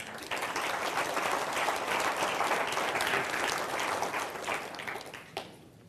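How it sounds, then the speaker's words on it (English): An audience at a hypnosis demonstration claps for volunteers coming up, a steady moderate round of applause from a room of people that tapers off and stops just before the end. "Give them a round of applause, folks."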